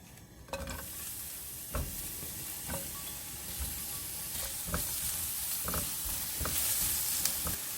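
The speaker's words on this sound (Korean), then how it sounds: "달군 팬에 식용유를 넣으시고 색깔이 하얀 양파부터 볶으세요." White onion frying in cooking oil in a heated pan gives off a steady broadband sizzle, with a spatula scraping and stirring every second or so throughout, close up and with no talking.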